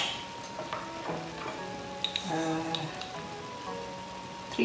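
Mustard seeds spluttering in hot coconut oil for a Kerala-style Kottayam beef fry: quiet background sizzle broken by scattered pops and short metallic clinks, with no talking.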